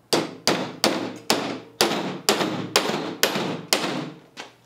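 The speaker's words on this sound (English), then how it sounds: "I'm gonna drive them in about halfway." Nine or ten sharp blows from a regular hammer driving nails halfway into wood, evenly spaced, each a loud ringing strike that fades before the next, close by with no talk.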